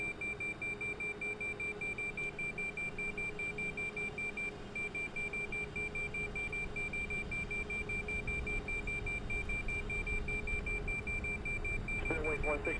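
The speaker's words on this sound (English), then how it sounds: "You guys can suffer through the beeping for a second." Cockpit warning beeps from a Boeing 747 in the SSG 747 v2.1 flight simulator game: a steady, rapidly repeating electronic beep runs continuously at moderate level from start to finish.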